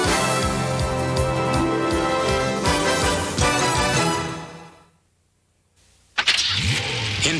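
A car engine revs hard with rising and falling pitch, cuts out to near silence for about a second, then roars back loudly and keeps running up close.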